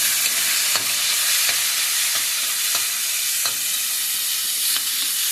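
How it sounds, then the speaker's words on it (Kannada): Tomatoes fry in a pan with a constant loud sizzle, punctuated by regular sharp scrapes and taps of a spoon stirring every second or so, close up and with no voices. "ಇದರಲ್ಲಿ ಸ್ವಲ್ಪ ನೋಡಿ ಟೊಮೆಟೊ ಹಾಕಿ ಎಲ್ಲ ಚೆನ್ನಾಗಿ ಫ್ರೈ ಮಾಡ್ತೀನಿ"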